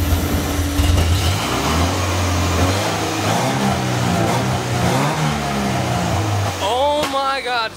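A Porsche engine runs and revs repeatedly with no throttle cable fitted, its pitch rising and falling in loud close bursts, and a high whining rise near the end.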